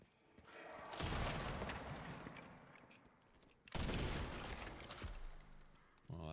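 Loud shotgun blasts in the video game Resident Evil Requiem, set in Raccoon City: two heavy booming shots with long decaying tails, about three seconds apart, with a small click of handling in between.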